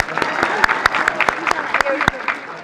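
Audience clapping for a girls' team at an inter-law-school sports award celebration: scattered, uneven hand claps with voices murmuring and chattering underneath throughout.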